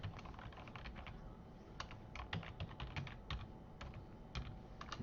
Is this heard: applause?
no